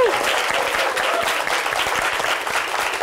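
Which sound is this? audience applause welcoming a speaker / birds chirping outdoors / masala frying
audience applause welcoming a speaker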